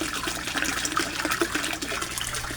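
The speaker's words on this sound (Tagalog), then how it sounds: "ito ang submersible pump ko guys" A submersible pump churns water in a koi fish pond, a steady, busy wash of splashing and bubbling with no pauses, close and fairly loud.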